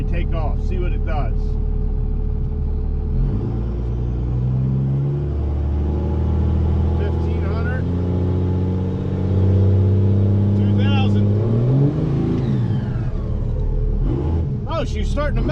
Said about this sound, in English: Give this thing a little boost before we take off, see what it does.